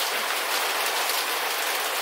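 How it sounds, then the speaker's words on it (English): Heavy rain pours down outdoors in a dense, steady hiss of countless drops, loud and close with no break, entirely without talk. "I hope you can hear me above all this rain"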